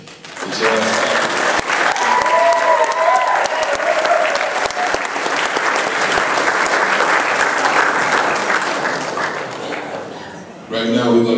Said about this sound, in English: So how about a nice round of applause for Winnipeg?